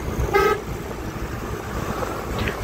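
A single short car horn toot sounds on a road near Parasnath, a clear honk lasting about a quarter second amid steady passing traffic rumble, with no one talking.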